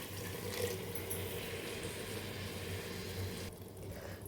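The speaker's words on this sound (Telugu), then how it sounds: "ఇదిగండి కొంచెం వాటర్ వేసాను" Water runs steadily into a pan of mutton keema curry, a soft, even pour with a faint trickle, heard close and quiet, with no voices.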